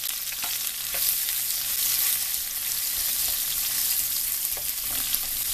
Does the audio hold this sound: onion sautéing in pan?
yes